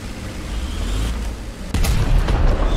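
A tank cannon fires in the War Thunder video game, a loud booming blast cutting in partway through over a constant rumbling engine drone, heard from close by with no talking.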